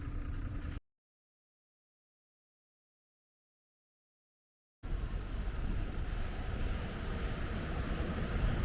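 Surf washing in at Coral Bay (Corallia Beach) in Paphos, a steady broadband rush of waves with wind on the microphone, cut off by several seconds of silence before resuming.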